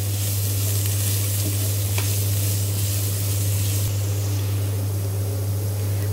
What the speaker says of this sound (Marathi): आता हा मसाला कांद्यावरती मुद्दाम टाकायचा म्हणजे तो करपत नाही.